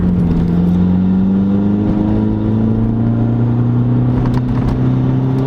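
Engine of a 2005 Volkswagen GTI revving during a downshift rev match: a loud, steady in-car drone whose pitch climbs gradually as the revs rise, with no speech.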